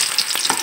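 Peanut pakora frying in hot oil, a close, bright crackling sizzle with a couple of soft stirring knocks, brief and continuous without talk.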